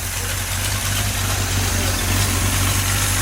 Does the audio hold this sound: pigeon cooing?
no